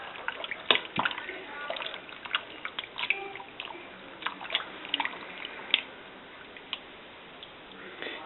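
Water runs and splashes over a hand close by, with irregular drips and small splatters and soft faint sounds in the background, while raw beef is prepared for jerky.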